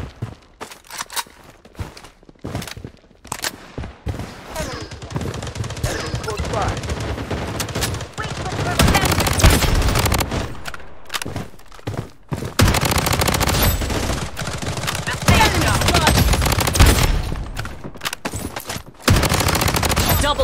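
Shotgun fire in the video game Blood Strike bursts out in rapid, loud volleys of repeated blasts, separated by quieter stretches with footsteps and game ambience.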